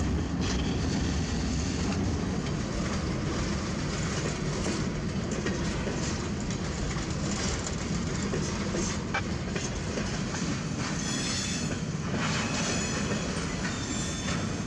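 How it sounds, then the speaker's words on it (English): A freight train slowly gets moving and rolls into a rail yard: a steady rumble with clanking railcars, faint wheel clatter and occasional metallic squeals, with no voices. "Eventually, the train would get going again and fully entered the yard."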